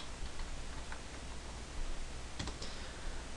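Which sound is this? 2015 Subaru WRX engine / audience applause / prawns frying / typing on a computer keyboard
typing on a computer keyboard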